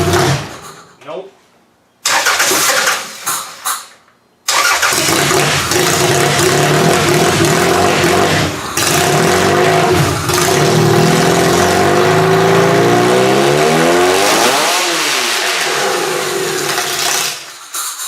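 A faulty motor sputters, dies briefly, then catches and runs loud and steady with rising and falling revs, close by, with talk over parts of it.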